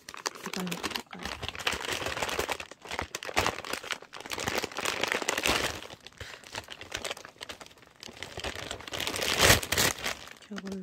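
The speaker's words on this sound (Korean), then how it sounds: "저걸 무식하게 이쪽으로 뜯어버리는 소민형이에요" Crinkly plastic packaging is torn and crumpled open by hand in rough, irregular bursts, close up, with a voice speaking between the rustling.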